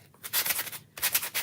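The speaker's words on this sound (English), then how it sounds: "Maybe I'll give it a light sanding." Light hand sanding on a painted surface gives two short bursts of dry, rasping friction strokes, close and clear with no talk.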